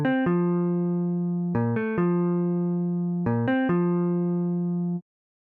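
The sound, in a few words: synthesized melody chords played back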